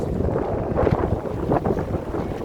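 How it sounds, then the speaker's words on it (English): Strong wind buffets the microphone in continuous low, rumbling gusts, loud and close, in a vegetable garden, with no one speaking. "You can see it's quite windy."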